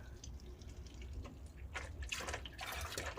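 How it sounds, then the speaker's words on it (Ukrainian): Trickling and gurgling of hot used engine oil draining from a MINI Countryman S 1.6 turbo in irregular bursts, growing louder and splashing toward the end, heard up close. "Пішла зливатись рідина"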